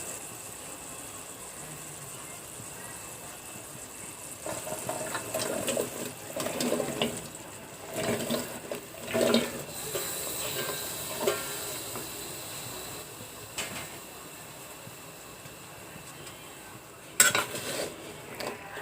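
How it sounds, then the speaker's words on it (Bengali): Chopped bottle gourd added to a pan of fried red lentils and prawns, soft sizzling with scraping and clinking of a spoon against the pan, quiet and close, with no talking. "এবার আমি এখানে লাউ দিয়ে দেব।"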